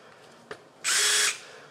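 A DeWalt 20V ATOMIC multi-head drill driver with an offset head attached spins up briefly, a short loud steady whir of under half a second after a small click, standing alone with no talk.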